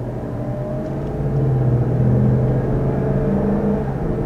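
A 2021 Lexus LX 570 engine runs steadily at close range, a low rumbling drone that swells slightly midway with a light rise in revs, with no talking over it.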